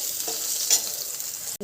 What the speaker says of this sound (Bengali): আলুটাকে বেশ ভালো করে ভেজে নেব